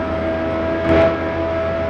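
Roblox car in a video game running flat out near top speed, a steady synthetic engine drone with a constant whine and a brief swell near the middle.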